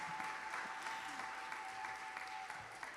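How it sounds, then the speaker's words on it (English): An audience at a National Junior Honor Society induction ceremony applauds the superintendent, a soft, distant, even patter of many hands over a thin steady electronic tone. "Let's give a round of applause to our superintendent."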